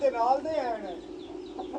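Young Aseel chicks peep and chirp in a cluster of bright, wavering calls, loudest at the start and then thinning into scattered high peeps.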